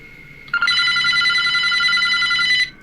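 Telephone bell ringing loud and close, a bright electronic trill that starts suddenly after a brief lower tone and holds continuously for about two seconds before cutting off, with no talking.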